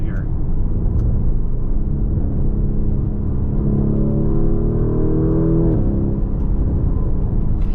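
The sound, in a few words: Lamborghini Urus V8 engine revving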